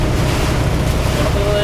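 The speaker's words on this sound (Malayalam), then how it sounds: "അതുപോലെ നല്ല കാറ്റും നല്ല മഴ" Strong wind and rain in a Florida storm batter the microphone as a constant loud rushing roar with no break.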